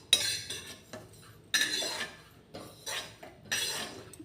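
Roasted sesame seeds are scooped from a pan into a bowl in a kitchen, giving four separate scraping, clinking strokes of metal on metal at a fairly quiet, close level.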